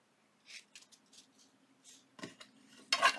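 Scissors trim paper for a glassine envelope in a junk journal, a few faint, brief snips and rustles close by, followed by a sharper crisp cut near the end.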